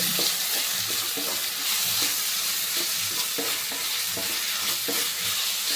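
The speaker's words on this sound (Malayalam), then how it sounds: "ഇതൊരു ഇതിൻ്റെ റോ സ്മെല്ല് പോകുന്നവരെ നമ്മൾ നന്നായിട്ടൊന്ന് വഴറ്റി കൊടുക്കുക" Ginger garlic paste with cumin sautéing in a pan for a biryani, a steady close hiss of frying with repeated scraping stir strokes throughout, no voices.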